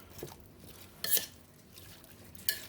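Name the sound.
spoon stirring beef teriyaki with broth in a crock pot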